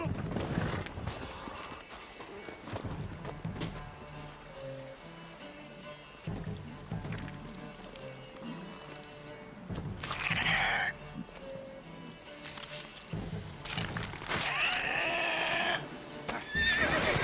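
A horse in The Witcher 3 video game clops its hooves in a steady rhythm and whinnies, alongside game music and scattered in-game voices, moderately loud and close.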